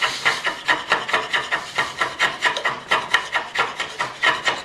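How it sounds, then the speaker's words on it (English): Draw knife shaving an oak board bow, making a steady run of rhythmic, raspy wood-scraping strokes, roughly four or five per second, close and fairly loud with no talking. "I'll finish the draw knife"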